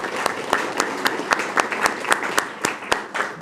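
A smaller audience at a corporate grant announcement in Chicago claps, with a loose bed of applause broken by several loud, distinct close claps landing in a rough rhythm for a few seconds.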